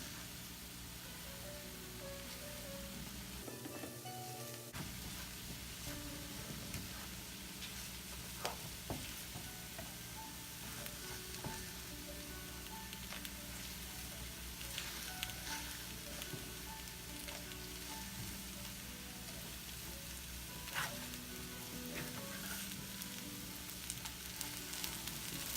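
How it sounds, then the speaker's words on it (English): Corned beef hash and potatoes fry in a pan over turned-down heat, giving a steady, even sizzle with occasional pops and crackles throughout. "I still want the meat, the corned beef hash, and the potatoes to still cook."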